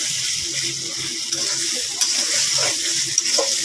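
Baim spiny eel fish fry in a pan with a steady, fairly loud sizzle, broken by a few stirring scrapes and sharper crackles.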